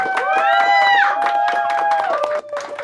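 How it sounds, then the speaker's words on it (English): A live audience claps and cheers with high whooping calls for a puppet introduced on stage at a comedy show; steady, dense applause fills the room for about three seconds before dropping off. "Everybody give a round of applause for Iris, everybody"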